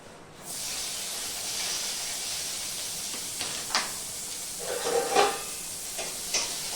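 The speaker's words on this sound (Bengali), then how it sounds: "পেঁয়াজটা লাল করে ভাজবো" Chopped onions frying in oil on a hot pan, a steady loud hiss and sizzle that starts abruptly and runs throughout, with a few stirring scrapes and crackles toward the end; no voices.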